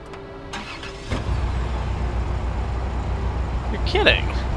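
A truck engine in the video game Red Faction Guerrilla catches and starts with a sudden jump in volume, then settles into a steady mid-pitched running drone, with a few clanks and a short higher sound near the end.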